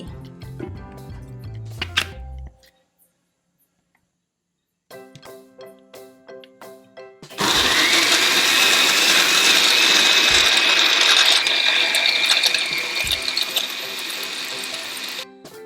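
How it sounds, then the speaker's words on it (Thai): A blender whirs loudly, blending fresh tomatoes with a little ice into juice, starting after a few mechanical clicks and clatters and running as a strong, steady high whine for several seconds. "จากนั้นก็ปั่นเลย"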